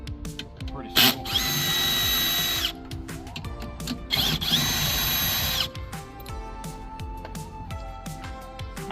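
A power drill whirs in two sustained bursts of a few seconds each while backing 10mm screws out of a Jeep Wrangler speaker housing, with clicks and rattles of the tool and parts between runs.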